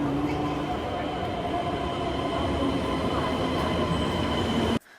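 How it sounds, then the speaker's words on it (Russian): A Shinkansen high-speed train rumbles steadily into a station in Japan with a low, continuous roar and faint high squealing, then the sound cuts off abruptly near the end. "Это, кстати, приехал знаменитый японский поезд Синкансен"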